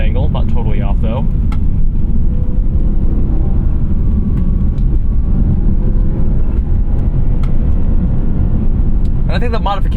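A 2011 BMW M3 E90 with its naturally aspirated V8 drones steadily under load while driving, a deep continuous cabin rumble as someone talks over it throughout.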